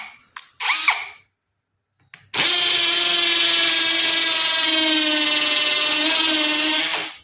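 A Nanwei cordless drill on hammer function: two short bursts, a pause, then a loud, steady high-speed whine with a rattling hammer buzz held for about five seconds before cutting off.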